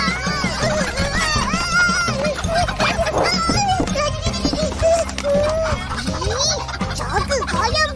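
Chickens in the animated cartoon Upin & Ipin cluck and squawk close by in a busy, overlapping stream, with people talking over the commotion.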